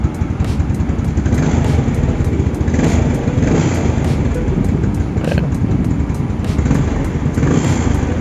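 A Yamaha Mio Sporty scooter engine fitted with a PE 24 carburetor runs loud and close, a continuous buzzy rumble with a steady throbbing beat and slight rises in revs, plus faint regular ticking.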